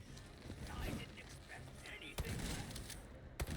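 Gunshots in the Resident Evil 4 boss fight against Krauser on Hardcore: a few sharp, isolated shots crack out amid busy game noise and scuffling, with someone talking over the action.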